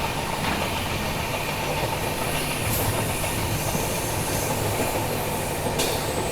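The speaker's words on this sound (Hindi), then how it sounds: "अपनी ट्रेन भी अभी बाहर आ गई है सरायघाट ब्रिज के" The Naharlagun–Guwahati Shatabdi Express rolls off the Saraighat bridge toward Guwahati, a steady, loud rumble of wheels on rails with faint metallic squeals rising briefly over the continuous clatter.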